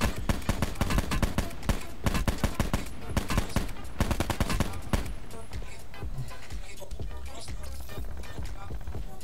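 Gunfire in the Call of Duty Blackout video game: loud, rapid automatic bursts of evenly spaced shots that thin out into scattered, softer game sounds, with a voice talking over parts of it.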